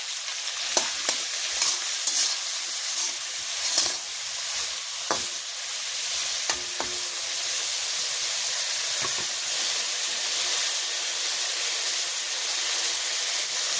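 Vegetables fry in a pan with salt and turmeric in a village kitchen, giving a steady close sizzle and hiss, with sharp clicks and scrapes of stirring scattered through.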